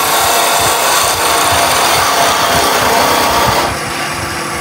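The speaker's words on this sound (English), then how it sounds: "I'm going to go with a spindle gouge just to show you the difference in its use" Wood turning on a lathe, a spindle gouge cutting with a rubbing bevel and rolling over the spinning workpiece, gives a loud, steady rasping scrape that runs continuously and eases off slightly near the end, with no talking.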